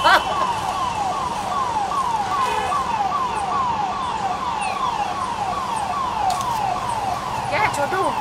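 An ambulance siren wails in a steady repeating up-and-down cycle, moderately close, against street traffic noise with people talking throughout.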